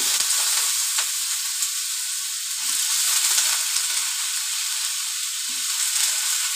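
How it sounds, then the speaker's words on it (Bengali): Potato chorchori fries in a pan with panch phoron and dry chilli, making a continuous bright sizzle and hiss with faint stirring scrapes underneath and no voices. "দিয়ে আমি আলু চচ্চড়িটা বানিয়ে নিচ্ছি।"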